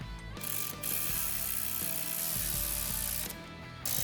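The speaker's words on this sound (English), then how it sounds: "Install your valve spring compressor tool" A valve spring compressor tool works a valve spring during a Stage 2 or Stage 3 performance camshaft install. It gives a steady run of close, loud mechanical ratcheting clicks, with no voices.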